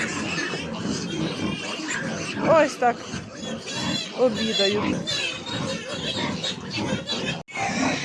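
Piglets in an indoor pen with a flat floor grunt and squeal in a busy, overlapping jumble, while a person talks nearby.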